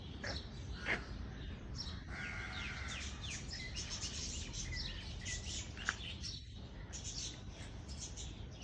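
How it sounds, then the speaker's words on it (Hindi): Birds chirp and tweet intermittently at a distance over a steady, noisy outdoor background on a morning walk, with several calls scattered throughout. "कितना अच्छा लग रहा है चिड़ियों की आवाज़ें"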